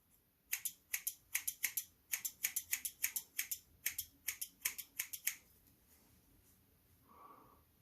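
Scissors snip rapidly while trimming a beard, a close, crisp run of about two dozen quick cuts over five seconds, then a short quiet pause.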